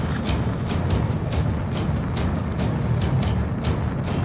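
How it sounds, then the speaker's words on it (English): Military jet aircraft engines running in the Ace Combat 7 video game: a steady, dense roar close up, with faint rhythmic pulses repeating through it. "His engines are on."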